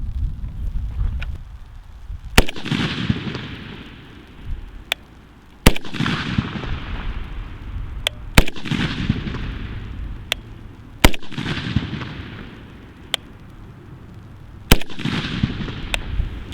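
Rifle fitted with a Primary Arms Raptor 1-6x optic fired in a group at an outdoor range: six sharp, loud shots spaced roughly every three seconds, each with a short rolling echo, and no talking.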